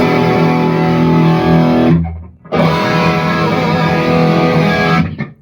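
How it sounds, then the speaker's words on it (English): A loud, saturated distorted electric guitar, using the amp's own overdrive, rings out in sustained chords, briefly cut off before playing again. "This is the amp's own dirty sound."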